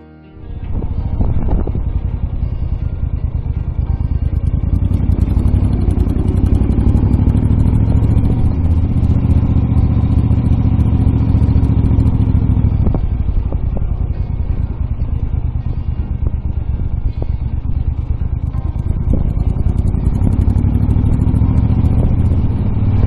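An Eldorado motorcycle out on a short winter ride, its engine starting up and then droning steadily and loudly with small shifts in pitch, and no talk.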